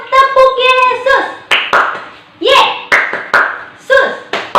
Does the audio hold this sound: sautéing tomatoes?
no